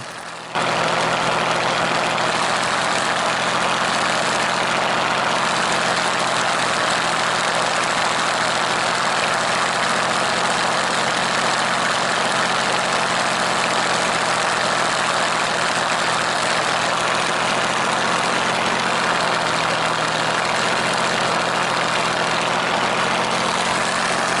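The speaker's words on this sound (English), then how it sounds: "I'm being so careful to keep the run-up RPM down, about 1700 RPM" Supermarine Spitfire piston engine held at a steady run-up around 1700 RPM with propeller pitch cycling, a loud continuous roar with slight dips in tone, close and unbroken, no voices.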